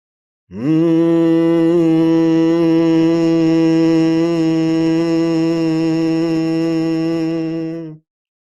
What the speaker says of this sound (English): exhale through the nose with that hum, with vigor